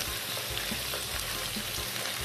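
Seafood sizzling as it is sautéed in a pan with ginger and garlic for creamy seafood ramen, a steady crackling hiss that runs continuously at close range.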